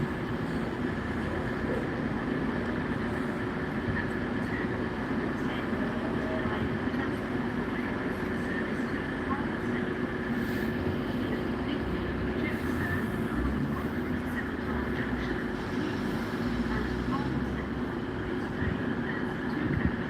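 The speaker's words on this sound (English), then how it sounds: "It's only a 2-coach train." A two-coach passenger train in Gloucester rumbles steadily with a constant engine drone and faint wheel noise, moderately loud and unchanging throughout, with possible faint voices in the background.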